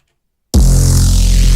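After half a second of silence, a bright, buzzy neuro bass patch from the Sylenth synth cuts in abruptly and holds loud and steady to the end.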